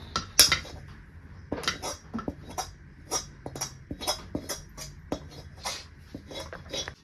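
Sweet poha barfi mixture scraped from a pan onto a ghee-greased plate in a home kitchen: repeated clinks and metallic scrapes of a spoon or spatula on steel, uneven and close, with no talking.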